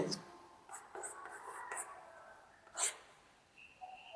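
Pen scratching on paper during a Hindi-language class 10 geometry construction lesson, a few short close strokes and taps with quiet gaps and low background hiss.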